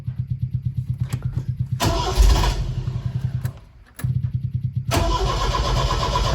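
An MGB GT's starter churns in rapid rhythmic pulses, the engine coughs briefly, cranking resumes and stalls, then a final burst catches into a steady, throbbing run nearby.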